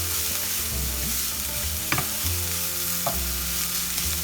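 Vegetable momo stuffing being stirred in a hot pan, a steady broadband sizzle with low rumble and a couple of sharp spatula clinks against the pan, close and fairly loud, no voices.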